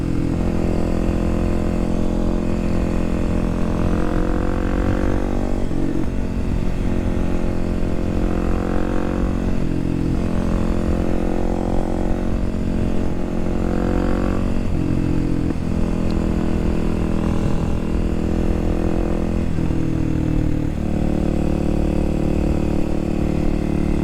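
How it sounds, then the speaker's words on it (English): A KOXL 300 Supermoto motorcycle ridden along back roads, its engine droning steadily and loudly throughout with repeated rises and falls in revs as it shifts gears. "Back roads on the KOXL 300 Supermoto."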